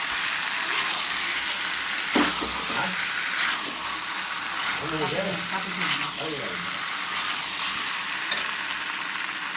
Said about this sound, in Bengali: মশলার সঙ্গে ভালো করে কষে নেব